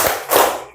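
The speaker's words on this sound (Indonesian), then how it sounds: "Tepuk pagi, tepuk siang, tepuk malam" Two quick bursts of hand clapping during a classroom clapping game, loud and close with a crowded, slightly roomy sound.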